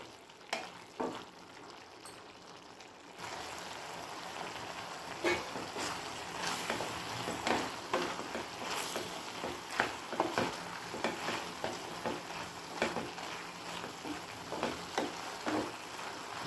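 Beetroot is sautéed in a pan with grated coconut and about eight cloves of garlic. It makes a quiet, crackling sizzle that grows after a hushed start, punctuated by repeated rhythmic scrapes of stirring.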